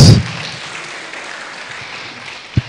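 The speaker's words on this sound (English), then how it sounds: "please welcome him with our claps." At a public discussion forum, an audience gives a brief burst of clapping to welcome a jury member, loud at first, then quickly fading into a quiet room hum, with a single soft thump near the end.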